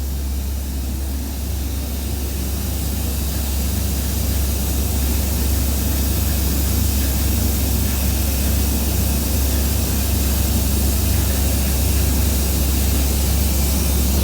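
A spray gun lays a fine finish coating onto a roof, giving a steady, loud, unbroken hiss of spray that holds evenly throughout with no pauses and no voices.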